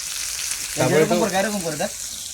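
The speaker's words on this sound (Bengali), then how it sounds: "কাঁচা লঙ্কা পেঁয়াজ ভাজা হালকা মাছ" Fish frying with onion and green chilli at an outdoor picnic in a tea garden and forest, a steady close sizzle with a brief voice speaking over it partway through.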